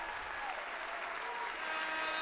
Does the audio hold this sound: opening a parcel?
no